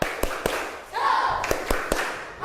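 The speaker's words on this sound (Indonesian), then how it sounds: "tepuk semangat." A class audience doing the rhythmic 'tepuk semangat' spirit clap, with crisp clap hits in a patterned sequence and a brief chanted shout of voices in between.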